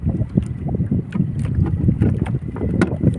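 Strong wind buffets a small rowing boat out at sea on a fishing trip. The wind roars close to the microphone with constant rumble, and water sloshes against the hull throughout.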